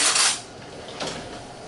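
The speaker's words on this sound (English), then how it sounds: "Let me get a spoon out of here." A metal spoon is pulled out of a kitchen drawer or container to taste a small, underripe melon, giving a sharp cutlery clink at the start and a softer rattle about a second later, close by with no talking.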